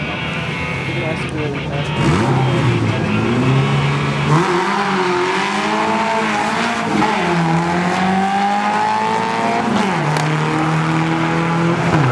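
Dodge Neon SRT-4 import car engine revving hard at a drag race, loud and sustained, with rising and falling pitch as it accelerates, and an announcer talking over it.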